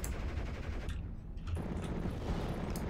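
Gunfire in the World War II strategy game Steel Division, dense bursts of machine gun and rifle fire rattling continuously with a brief lull in the middle, loud and without speech.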